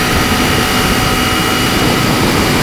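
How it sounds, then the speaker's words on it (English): Steady, loud roaring wind rushes past a rider on a Ninja 250 motorcycle fitted with a Pipewerx exhaust at 70 mph, with the engine barely distinguishable beneath the constant broadband buffeting. "I don't really hear the exhaust so much, it's more wind noise"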